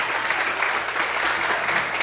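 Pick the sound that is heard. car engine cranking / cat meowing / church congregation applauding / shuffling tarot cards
church congregation applauding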